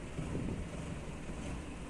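Steady, loud wind roars across the microphone during a fine snowfall in Odessa, a continuous gusty rush with no voices.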